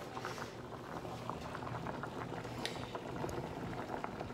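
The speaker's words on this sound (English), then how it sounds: "Ignore the mini potatoes boiling away." Mini potatoes boil in a pot, giving a continuous close bubbling and popping with a soft, steady patter that stays even throughout.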